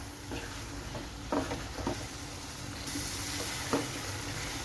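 Beef intestine (botti) frying in thick gravy over a raised flame, with a steady sizzle and a few scraping stirs of a spoon against the pan.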